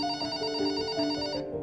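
A telephone rings in a sound effect inside a Hindi ghost story. It is a continuous bright electronic trill that sounds loud and close, then cuts off abruptly just before the end.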